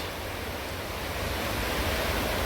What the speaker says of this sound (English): Here's the river. You get this beautiful sound all night while you're sleeping in your tent.